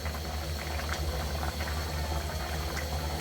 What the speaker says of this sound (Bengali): তরকারি বলক এসে গেছে